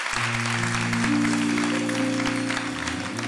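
Studio audience applause on a Turkish TV talk show, a dense steady wash of clapping filling the whole stretch, with some tonal music or background hum underneath.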